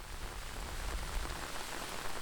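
Heavy monsoon rain pours down in a subtropical forest, a dense, even roar of countless drops striking leaves with no other sounds.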